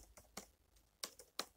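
Keys tapped on a computer keyboard while entering a stock name, a few quiet irregular clicks with sharper strikes standing out, close and alone without talk.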